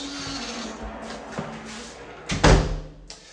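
An interior bedroom door in a rented flat swings shut with a short, firm thud near the end, after a quieter creak and light handling noises of the door moving.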